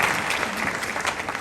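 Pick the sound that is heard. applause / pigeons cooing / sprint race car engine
applause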